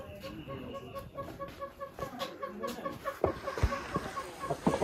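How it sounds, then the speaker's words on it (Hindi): Red junglefowl at Himalayan Nature Park in Kufri, giving soft, repeated clucking calls at moderate distance, with other faint bird sounds and a few close thumps and rustles. "ये आ गया जी रेड जंगल फाउल, जिसको अपन जंगली मुर्गा भी बोलते हैं"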